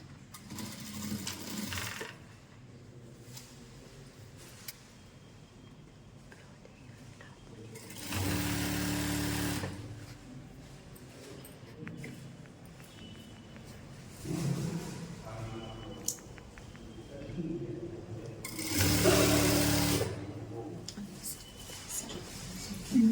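Sewing machine stitching chudidar fabric in three short, loud whirring bursts separated by quieter pauses.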